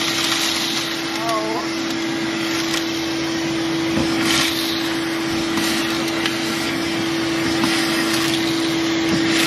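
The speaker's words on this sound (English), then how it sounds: "You want to vacuum it?" A vacuum runs steadily to pick up broken glass from a car's shattered window, a constant close drone with a steady hum that holds for the whole stretch with no voices.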